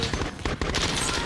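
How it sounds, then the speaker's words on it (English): Fireworks go off outside in a rapid string of sharp, crackling bangs, loud and closely spaced like a volley, filling the short span with no talk over them. "I'm sorry about the fireworks, but there's literally nothing I can do."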